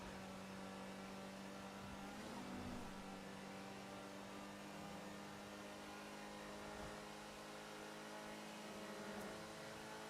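A car engine in a driving video game, speeding along with a steady, fairly quiet drone whose pitch shifts slightly as it runs, continuous throughout with no other sounds.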